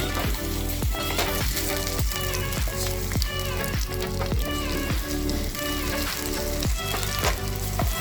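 Ginger and jaggery paste frying on a low flame while being stirred, a dense continuous sizzle layered with a regular rhythmic pulse and ringing tones throughout, with no talking.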